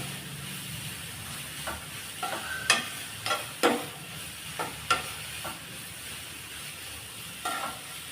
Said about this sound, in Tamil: பொடியை சேர்த்து 1 நிமிஷம் நல்லா இதை கலந்து விடுங்க.